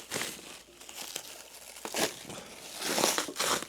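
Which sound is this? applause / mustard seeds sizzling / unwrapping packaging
unwrapping packaging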